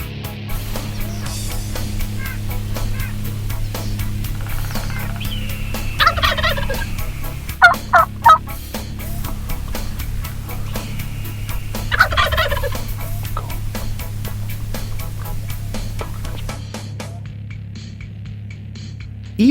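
Young wild turkeys, jakes, gobble close by in a series of rattling calls over a low background hum, with several bursts clustered together and quieter clucks between.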